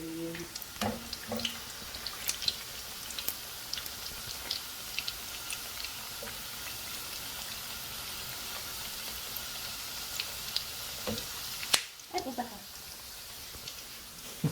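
A kitchen tap runs while hands are washed, a soft continuous hiss of water with faint clinks, fairly quiet and distant, with people talking over it.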